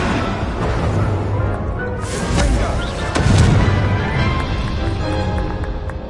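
A fire spell blasting in Hogwarts Legacy, a loud continuous roaring burst with heavy low rumble that swells in the middle and stays dense and close throughout.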